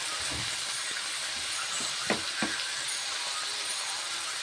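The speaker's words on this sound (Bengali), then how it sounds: "দু মিনিট ভেজে নিচ্ছি বাঁধাকপি পেঁয়াজ একসঙ্গে" Cabbage and onion frying together in a pan give a steady broadband sizzle, with a couple of brief stirring clinks near the middle.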